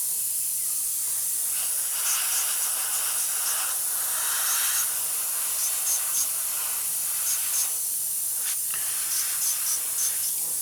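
Airbrush hissing steadily as it sprays paint onto a 1/48 Hobbyboss F4F-3 Wildcat model aircraft, a continuous close spray with brief pulses and short breaks, no talking.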